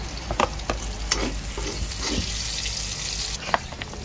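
Garlic and onion stir-frying in a pan, with a soft sizzle and several sharp scraping and clattering strokes of a utensil against the metal, close and without speech, over a low steady rumble.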